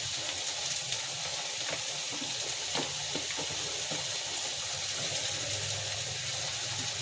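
Carrot and potato cooking in a hot pan for pasta, a continuous close sizzle with occasional stirring scrapes and knocks, no voices.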